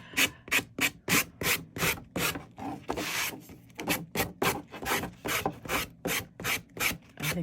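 Hand sanding of a Dollar Tree cork board: rhythmic back-and-forth rasping strokes, roughly two per second, with a brief continuous scrub in the middle. Close and fairly quiet, no voices.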